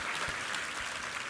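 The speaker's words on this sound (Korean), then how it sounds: "우리 하나님께 감사와 영광의 박수 올려드리겠습니다" Congregation applauding steadily at a Korean church's Sunday worship service, a dense, even patter of many hands clapping throughout with no talk over it.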